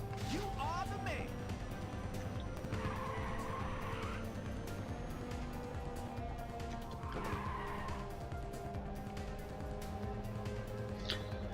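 Cars race in the PlayStation Portable game Ridge Racer 2, with a steady engine drone, tire squeals and a swooshing nitrous boost, while a voice talks over the action.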